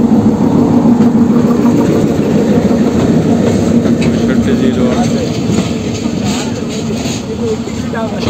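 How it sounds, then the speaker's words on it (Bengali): The Betna Express arrives at Jhikargachha station on the Benapole to Khulna line, a loud close rumble of engine and rolling wagons with clickety-clack that eases slightly as it slows. "অবশেষে অনেকক্ষণ অপেক্ষার পরে ট্রেনটা আসতেছে।"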